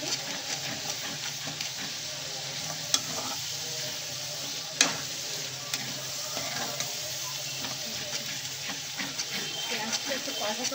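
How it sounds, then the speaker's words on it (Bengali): Onions fry in oil and are stirred for chicken kosha, giving a steady close sizzle broken by spatula scrapes and a couple of sharp clicks against the pan. "পেঁয়াজটা একটু কষা কষা হয়ে গেলে"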